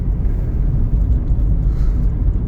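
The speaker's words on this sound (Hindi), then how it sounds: "देखो हवा भी तेज़ चल रही है ना।" Strong wind roars around a small moving car, a loud, continuous low rumble and buffeting close to the microphone with no talking.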